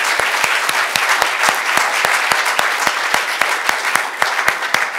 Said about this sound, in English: let's have a great round of applause for our wonderful panelists